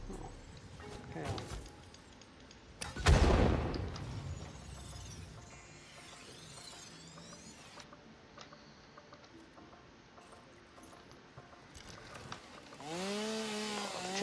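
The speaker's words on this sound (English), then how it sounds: "Chainsaw again." A chainsaw revs in the video game Satisfactory, one loud burst followed by whirring, ticking machine noises and a later rising mechanical whine, all under quieter background game sounds.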